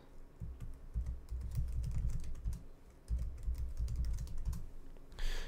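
Keys clatter on a computer keyboard as an email address is typed during a Linux server setup. Two quick bursts of close, crisp keystrokes are separated by a brief pause, in an otherwise quiet room.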